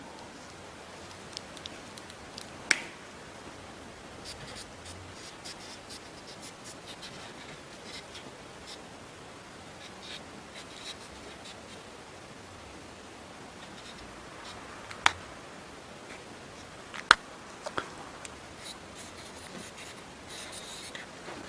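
Chalk scratches across a classroom board during a molecular biology lecture, with a steady run of soft strokes and a few sharp taps, and no talking over it.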